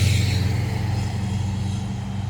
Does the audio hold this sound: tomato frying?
no